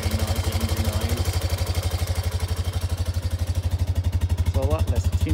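Engine idling with valve train clatter through a Kolpin Stealth exhaust, a steady close pulsing rumble with a light ticking layer, a brief voice near the end.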